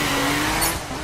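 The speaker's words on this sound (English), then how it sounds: "nothing complements rain-slick streets like squealing tires" Car tires squeal over a steady engine roar on rain-slick streets in The Crew racing game, one continuous loud burst heard up close with no talking.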